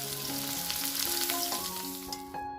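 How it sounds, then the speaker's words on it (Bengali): Cauliflower florets fry in hot oil in a pan, a loud, bright sizzle with crackling pops and some tonal ringing from the utensil, continuous and close with no voices. "এবার লাল লাল করে আমরা ফুলকপিটা ভেজে নেব।"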